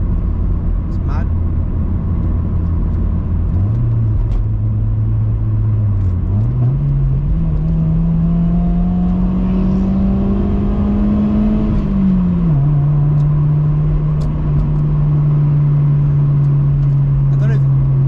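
A car with a new aftermarket exhaust gives a low, steady droning rumble while driving, the engine note rising through the revs and then settling at cruise, close and loud throughout.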